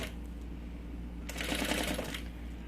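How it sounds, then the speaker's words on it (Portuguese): A sewing machine runs a single seam to hold down a fabric flap on a triple pencil case, a quiet low hum that breaks into a brief rapid burst of stitching chatter partway through, close and alone. "E venho com uma costura só pra segurar essa abinha aqui em cima."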